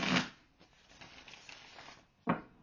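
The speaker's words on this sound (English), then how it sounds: "let me just shuffle since that chunk of cards fell" Tarot cards being shuffled by hand: a crisp, close riffle at the start, then soft rustling and light tapping, and a second sharp riffle near the end.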